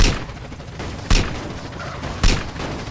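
Gunfire in GTA San Andreas Multiplayer: two sharp, loud shots about a second apart, each a broadband crack with a low thump, over a steady game background without talk.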